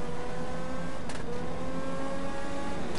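A car engine in the GTA 5 video game revs and drones steadily at a moderate level, with a brief sharp burst near the middle.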